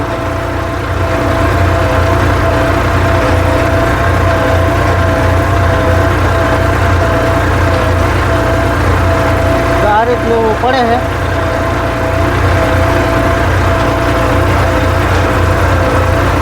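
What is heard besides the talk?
tractor engine running in third gear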